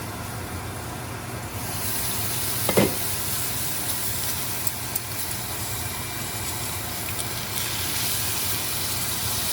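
Steak searing in a lidded pan gives a steady, dense sizzle that brightens after a couple of seconds, with a brief louder crackle burst and scattered small pops.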